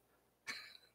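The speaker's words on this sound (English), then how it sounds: "I cannot get rid of this cough that I've got." A single short cough from a persistent, lingering cough rings out once in a quiet room, sharp and close, with nothing else heard around it.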